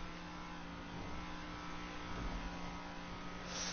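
A car accelerates hard with a boost in the GTA Online racing game, its engine a steady loud roar that holds throughout and swells slightly near the end, with no talk over it.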